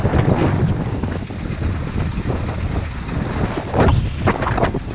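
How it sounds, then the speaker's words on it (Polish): Strong wind buffeting the microphone on a sunny day in northern Kazakhstan, a constant low roar with gusts swelling and easing, heard outdoors with no voices. "słonecznie, ale wieje, na szczęście w naszą stronę"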